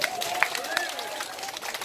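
An audience at a street pumba performance claps briefly, a short, fairly faint patter of applause under crowd murmur and a voice.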